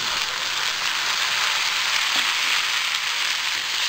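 Chopped tomatoes dropped into onions frying until lightly browned in a pan, giving a loud, steady, dense sizzle that holds evenly throughout with no talking.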